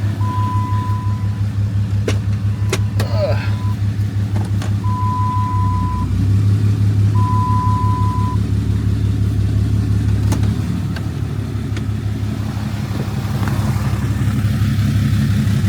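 A pickup truck engine idles and rumbles steadily close by as it is driven forward slowly outside a shop, with a low, continuous drone swelling slightly midway and a few faint intermittent beeps over it.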